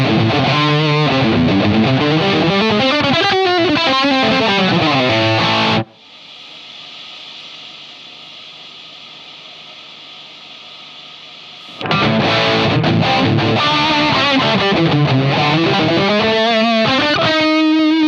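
Electric guitar played through a Tone City Holy Aura distortion pedal, loud saturated chords and riffs that stop for several seconds of amp hiss, then resume.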